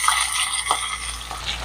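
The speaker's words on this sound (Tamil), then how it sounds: "கிழங்கு எண்ணெயில் நல்லா பொரிஞ்சு வரணும்." Cut potatoes frying in hot oil in a pan, a steady close sizzle with crackling pops and a few light stirring scrapes, no voices.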